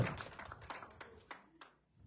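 A small church congregation applauds, with brief scattered clapping that starts fairly close and tapers off into quiet within about two seconds.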